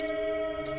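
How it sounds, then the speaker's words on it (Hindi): An alarm clock goes off in a quiet morning bedroom, two short bursts of bright electronic beeping a moment apart over a steady low hum. "सुबह होने पर अलार्म बजता है।"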